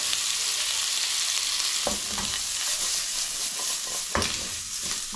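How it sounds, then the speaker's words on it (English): Bacon frying in oil, a loud, dense, hissing sizzle held close throughout, with a couple of brief knocks from the pan, no talk. "Right, bacon in."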